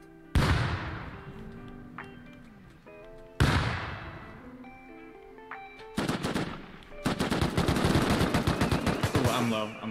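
Video game gunfire during a base raid: loud single shots with ringing tails and clanking at first, then sustained rapid automatic bursts close up, with no voices.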